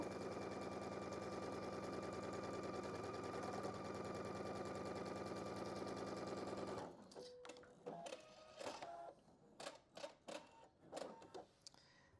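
A sewing machine stitches a quilt block in a steady, loud, continuous whir for about seven seconds, then stops, followed by scattered clicks and handling noises nearby.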